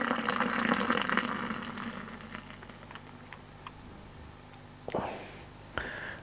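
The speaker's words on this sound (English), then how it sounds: "I'm going to give this a little bit of an aggressive pour" Beer is poured hard into a glass, giving a gushing, splashing rush that is loud at first and then fades into softer trickling, with a couple of small clinks near the end.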